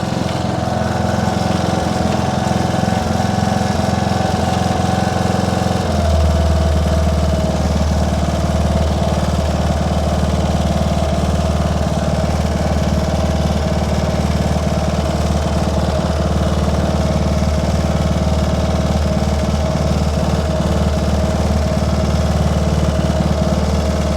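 A trackless train's engine runs steadily in fourth gear, a loud, continuous mechanical drone that drops slightly in pitch a few seconds in and then holds even with no talking.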